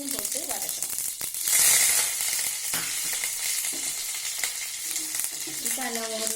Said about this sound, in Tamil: கருவேப்பிலையும் போட்டு வதக்கிறோம்.